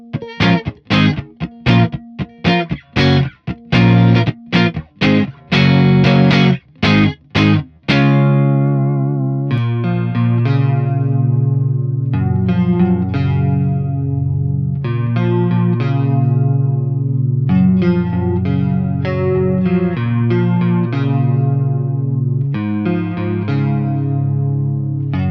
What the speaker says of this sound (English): I will turn off the compression so you can hear just what the amp is doing